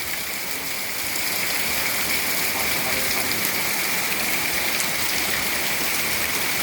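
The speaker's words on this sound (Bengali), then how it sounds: "এত পরিমাণ বৃষ্টি হচ্ছে" Heavy rain pours steadily onto a waterlogged street in Jamgora, Ashulia, Savar near Dhaka, a dense continuous hiss of downpour and splashing water with no voices.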